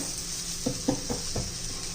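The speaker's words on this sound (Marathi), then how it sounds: "दोन मिनिटं तरी एका बाजूने आपण भाजून घेऊया." Thalipeeth made from poha (flattened rice) roasting on a hot pan, with a steady soft sizzle and a few small intermittent crackles and pops, close and fairly quiet throughout.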